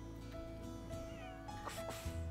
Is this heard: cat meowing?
yes